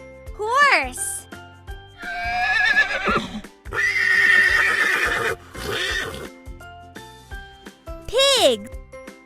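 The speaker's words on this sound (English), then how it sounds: "Horse." A horse whinnies loudly several times in shrill, wavering bursts over a rhythmic musical beat, with quick swooping effects at the start and end.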